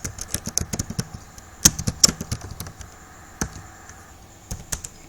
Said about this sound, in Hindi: कोई भी वर्ड इसमें टाइप कर दो